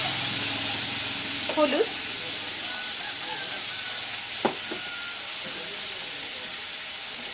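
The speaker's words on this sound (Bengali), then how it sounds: "এখন এটাকে 2 মিনিট একটু নাড়বো তেলের মধ্যে।" Tomato and spices sizzle softly in hot oil for a fish curry, a faint steady hiss with occasional stirring scrapes and a short spoken word.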